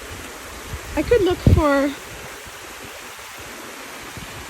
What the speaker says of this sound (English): sleeping with the sound of water like this